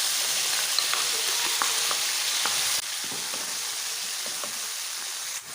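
Onion and chicken breast sizzling in two large spoons of olive oil, a steady close frying hiss with scattered pops and the odd stir, no voices.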